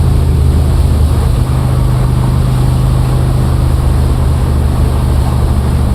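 A 1967 Corvette 427 convertible's big-block engine drones loud and close while driving at around 4,500 RPM, a heavy, steady low rumble with constant road and wind roar and no voices.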